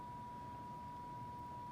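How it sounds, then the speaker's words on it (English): A 1 kHz test tone from a signal generator plays through a 1980s Kyocera R-651 AM/FM stereo receiver as a single steady pure whistle, faint and unbroken over light hiss. "we're feeding a 1K signal out of a signal generator onto an oscilloscope there"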